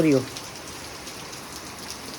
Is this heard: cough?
no